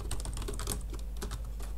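Rapid, irregular keystrokes clatter on a computer keyboard, close and fairly quiet over a low steady hum.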